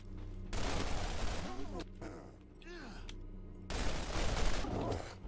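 Rapid bursts of automatic gunfire in Borderlands Remastered, loud and dense, broken by brief gaps where a voice groans and sighs.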